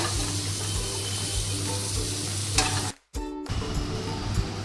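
Lote fish jhuri sizzling in a frying pan as it is stirred and lifted out, a steady crackling fry that cuts off abruptly for a moment before resuming, close and alone.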